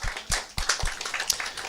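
Scattered clapping from a church congregation in praise of Jesus Christ, a few loose, uneven claps spaced irregularly, fairly faint and sparse rather than a full ovation.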